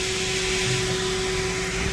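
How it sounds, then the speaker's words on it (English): Air rushes out of a tire valve in a loud, steady, close hiss with a constant tone and no voices. "I'm gonna let some of the air out."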